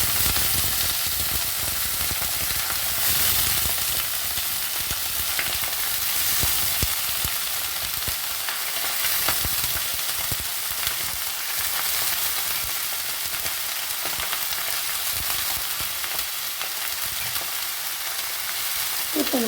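Cabbage and carrot fry in oil with curry leaves, a steady dense sizzle with intermittent stirring clatter that runs close and continuous throughout.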